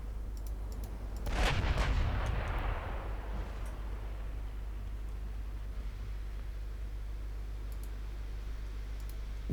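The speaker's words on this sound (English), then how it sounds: "Big guns." Naval big guns fire in a naval warfare strategy game, set in a 1938 Norwegian campaign: one loud booming salvo with a rolling decay, over a steady low engine drone and faint clicking.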